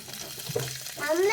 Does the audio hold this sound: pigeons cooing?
no